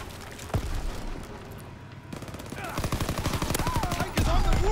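In Call of Duty WWII, rapid gunfire rattles in dense bursts and builds toward a heavy rocket blast at the end, with a player's voice briefly heard amid the shooting.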